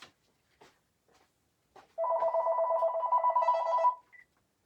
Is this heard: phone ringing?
yes